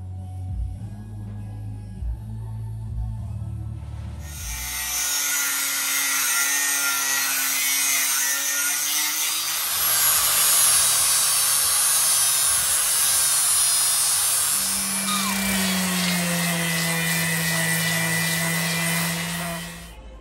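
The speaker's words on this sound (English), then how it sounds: "So I'll start cutting this out of some 3mm plate now, get the shapes right." 3mm mild steel plate being cut into filler plates for a custom motorcycle build on a CBR 125 frame: a harsh, loud, continuous grinding and cutting noise runs for about sixteen seconds after a quieter start with a low hum.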